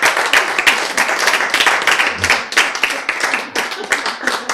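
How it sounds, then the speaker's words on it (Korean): An audience claps at a health lecture, a dense, steady run of many hands clapping together close by with sharp overlapping hits throughout. "왜 박수를 안 칠까?"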